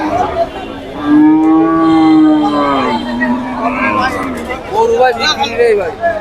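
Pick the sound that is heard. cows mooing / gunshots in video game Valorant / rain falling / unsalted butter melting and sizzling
cows mooing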